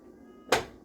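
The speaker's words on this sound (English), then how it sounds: "I don't know if you can hear my cat, but he is asking for attention." A cat gives one short meow for attention in a kitchen while bread dough is being kneaded, a single clear cry after a quiet stretch.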